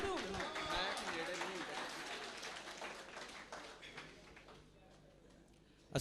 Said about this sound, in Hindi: आपकी फिर एक मर्तबा भरपूर तालियां जनाब आसिफ जुगनू।